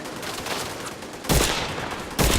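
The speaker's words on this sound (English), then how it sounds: "these guys are using cover-based shooting to the max right now" Gunfire rings out during a cover-based firefight in Just Cause 4, with scattered distant shots and then two sharp, loud bursts near the end.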